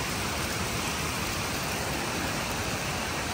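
Steady outdoor rain on a tropical coast, a dense, even hiss that fills the whole stretch at fairly high level, close and unbroken, with no voices.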